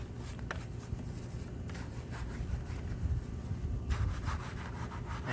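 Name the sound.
brush scrubbing the barrel of a car wheel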